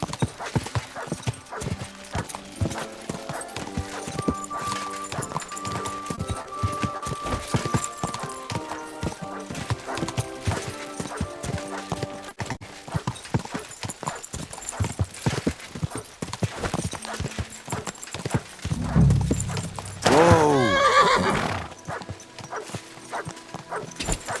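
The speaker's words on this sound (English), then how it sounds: "This horse must have cost a pretty drop. Go!" Horse galloping in Kingdom Come Deliverance II, quick rhythmic hoof beats throughout over game music, with a loud whinnying neigh near the end before it fades.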